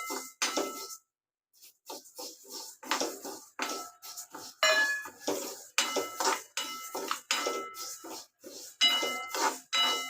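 Moong dal dry-roasting in a hot kadhai over a low flame, stirred with a utensil: close, steady rhythmic scraping and metallic clinks against the pan, with one brief pause near the start.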